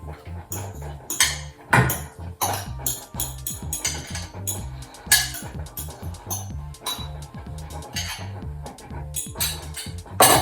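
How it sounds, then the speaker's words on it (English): Oatmeal with mashed banana being stirred in a pot, with steady repeated scraping and clinking of a spoon against the pot under a low rhythmic backdrop. "And I continue to stir."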